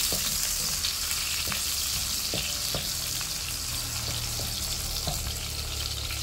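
Garlic frying in a pan as the start of a home-cooked pancit with tomato: a steady, close, bright sizzle with a few soft taps from stirring. No voices.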